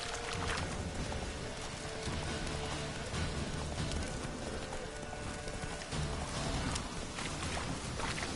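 Geralt's horse Roach gallops in The Witcher 3: Wild Hunt, with steady rhythmic hoofbeats that stay close and loud over a constant ambient bed for the whole run.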